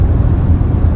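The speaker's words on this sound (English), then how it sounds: "Bit of wind noise." A steady low rumble of wind and road noise fills the cabin of a Ford Transit Custom van at highway speed, constant and loud for about a second.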